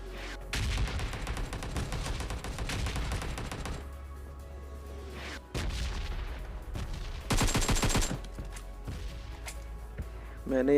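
Gunfire in a shooter video game sounds as sustained bursts of rapid automatic shots, loud and dense, broken by short gaps, with a final blast at the end.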